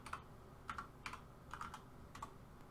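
Keys on a computer keyboard are pressed for a shortcut during 3D software work, producing a few light, close taps spaced apart over a quiet background.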